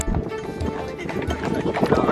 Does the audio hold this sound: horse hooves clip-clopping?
yes